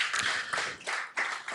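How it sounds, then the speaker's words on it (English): Audience applause at a power-sector dialogue event, bursts of hand clapping swelling and fading in quick waves, fairly close and without talk. "Mr. Eugene Mohammed, please give him a round of applause as he walks to the podium."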